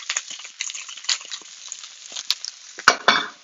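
Butter melting in a hot pan sizzles and crackles steadily up close, with sharp pops and spits breaking through near the end.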